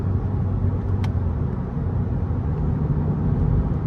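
A car engine rumbles low and steady from inside the cabin during a downshift as the revs build for power. There is a brief click near the one-second mark, and no one talks.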